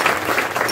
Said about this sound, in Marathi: त्यांच्यासाठी टाळ्या वाजवा जरा